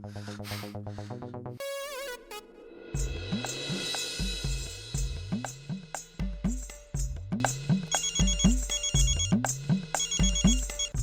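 An electronic phone ringtone plays a repeating melodic pattern, loud and close, with a brief chirping tone break early on.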